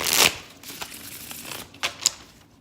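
Tarot cards from a Spellcaster's Tarot deck are shuffled in short, crisp riffling bursts, close and fairly quiet, with pauses between flurries and no talk.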